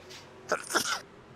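A single sharp sneeze, brief and close, in two quick bursts, with a faint voice murmur just before it.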